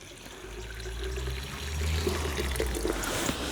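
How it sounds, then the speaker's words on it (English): Water poured into a Kilner jar holding a cup of wheat grain, a steady low rushing pour that builds and grows slightly louder toward the end, with no talking. "So I'm going to take a cup of wheat, put it into the jar, and I'm going to add water."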